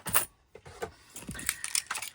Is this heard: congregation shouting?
no